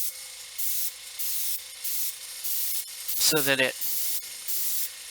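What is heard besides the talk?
spray painting a Guild Ball miniature model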